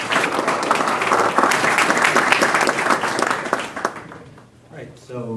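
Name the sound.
audience applause for the panel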